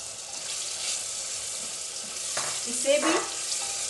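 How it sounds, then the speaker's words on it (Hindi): Green chickpeas fry in oil alongside tomatoes in a pan, a steady broadband sizzle that swells briefly with stirring near the end, under a couple of quietly spoken words. "ये हरे चने को भी मैंने 1 से 2 मिनट तक तेल में भून लिया है"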